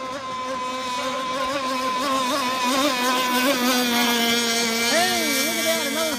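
A game motorboat engine drones steadily and loudly, its pitch wavering up and down as the throttle shifts.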